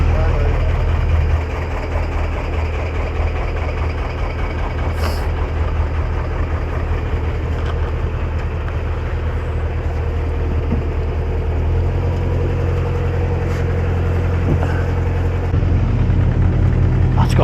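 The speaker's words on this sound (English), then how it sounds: "That's got some engine on it, that thing, I'll tell you." Steady low engine drone from a canal work boat cutting back overhanging vegetation, rumbling close by and continuously throughout as it passes, with a little background noise on top.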